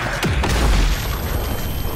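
Explosion in the open-world shooter video game Project LLL, a loud deep boom with a sharp onset followed by a rumbling, noisy tail that fades over about two seconds.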